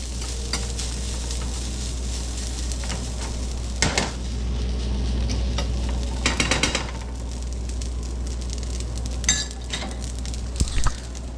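Spices and a splash of water sizzle in a hot pan as a utensil stirs, with a steady hiss under occasional metallic clinks and scrapes against the pan.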